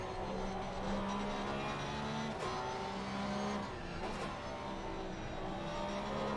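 A Porsche GT3 race car in a multi-class GT3/GT4 sim racing championship drones at steady engine pitch, with other cars audible around it in a continuous, fairly loud racing mix.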